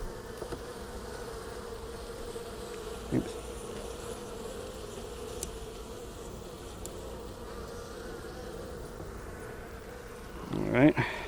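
A steady, soft hum of many honeybees, including young nurse bees, buzzing close together in a hive during an inspection, continuous throughout, with a few faint clicks and a brief louder rustle near the end.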